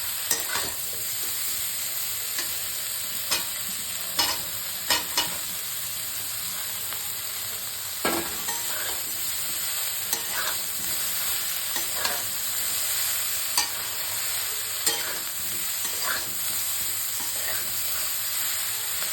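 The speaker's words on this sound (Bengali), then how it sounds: "আর এই মাশরুম আর ব্রোকলির রসেই হয়ে যাবে ভাজা।" Mushrooms and broccoli fry in a covered pan in their own juices with no added water, giving a steady close sizzle and hiss broken by occasional sharp stirring scrapes.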